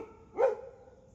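Max or Minnie, a pet dog, lets out a single short bark in a quiet house, close and clear, with silence after.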